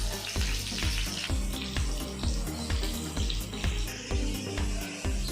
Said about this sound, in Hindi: इसी तरह हम बाकी के भी फ्राई कर लेते हैं।